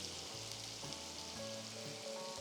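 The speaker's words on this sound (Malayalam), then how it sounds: "നമ്മളിവിടെ നോക്കുന്നത് സവോള ഒന്ന് സോഫ്റ്റ് ആവണം, അതുവരെ ഒന്ന് വഴറ്റിയെടുക്കാം" Chopped onion and green chilies sautéing in a pan for mushroom rice, a steady close sizzle and crackle of frying with faint scraping, no voices.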